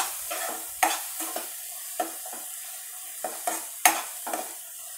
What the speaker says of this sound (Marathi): व्यवस्थित असं परतवायचं आहे